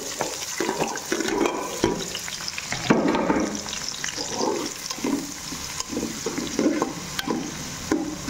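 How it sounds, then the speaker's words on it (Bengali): Onions sizzle and crackle in a frying pan with green chillies, the hiss rising and falling as they are stirred in uneven bursts, close and without talk. "পেঁয়াজ ভাজা হয়ে গেছে,"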